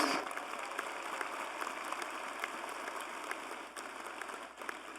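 An audience at a Florida State College at Jacksonville commencement ceremony applauds a chorale, a steady, fairly soft wash of clapping that holds for several seconds and dips slightly near the end.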